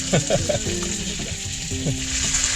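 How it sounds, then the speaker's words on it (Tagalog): Close, steady frying sizzle with crackling oil throughout inside a camper jeepney, joined by a few scraping, clattering bursts like stirring in a pan. "sumarap yung tunog ng prito"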